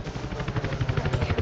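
A helicopter in the video game Battlefield 4 thumps with rapid, steady rotor pulses, fairly loud and continuous, alongside faint in-game gunfire.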